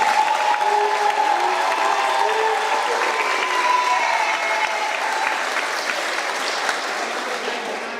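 Sustained audience applause at an 8th grade graduation ceremony at Pennington School, welcoming the valedictorian; steady clapping from a large crowd that holds for several seconds and slowly tapers, with a few faint voices mixed in.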